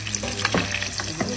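Butter sizzles and fries in a pan, a steady close crackle with a few louder stirring or spattering bursts across a short stretch.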